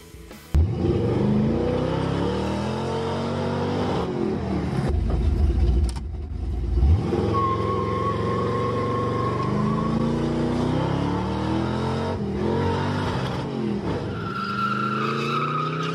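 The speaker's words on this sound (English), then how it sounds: "We're gonna jump my RC car off a jump that it shouldn't be jumping off of." An RC desert buggy drives and revs hard, its small motor whining up and down with tire skids and scrabbling across the ground. The sound is loud and continuous throughout, with no voices.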